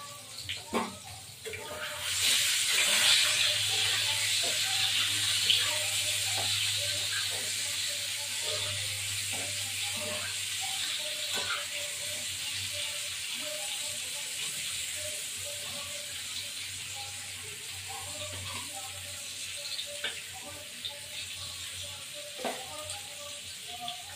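Steady, bright sizzling and hissing of an egg frying in hot oil in a pan, continuing throughout with faint occasional clicks and spatters.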